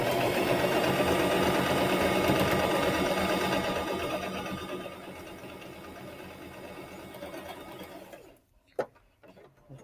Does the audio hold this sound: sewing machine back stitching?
yes